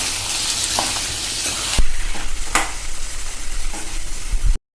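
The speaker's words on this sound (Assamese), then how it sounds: "মাংসখিনি দি উঠি মই ধুনীয়াকৈ এতিয়া মছলাখিনি লগাকৈ ধুনীয়াকৈ আমি লৰাই দিম" Meat frying with spices in a hot pan, stirred steadily, with a loud continuous sizzle and a few scraping strokes before it stops abruptly.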